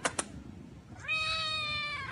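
A single cat gives a clear, drawn-out meow at close range, rising then holding steady for about a second, after two short sharp knocks.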